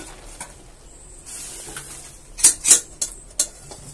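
Boiled jute greens poured from a pan into a large bowl, giving soft wet slops and clinks of metal cookware, strongest in a brief burst midway, with no talk.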